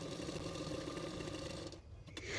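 A sewing machine stitches along the edge of a blouse belt, a steady close mechanical hum that runs without a break and eases off briefly near the end.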